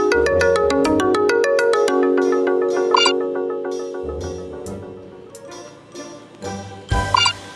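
A phone rings during a call with a loud, melodic electronic ringtone, bright repeating chime-like notes that cycle through a tune and pause briefly before starting again.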